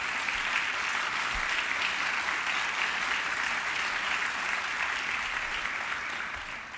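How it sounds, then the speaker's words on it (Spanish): An indoor audience at a national tourism forum in Mexico gives sustained, even applause, dense steady clapping that fills the room from start to finish with no one speaking over it. "aplaudámosles a todos los que como secretarios de turismo han hecho de México una gran potencia."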